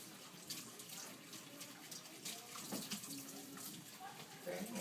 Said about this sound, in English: We're going to rinse out the cup.